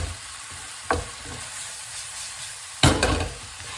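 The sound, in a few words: prawns and onions stir-frying in a wok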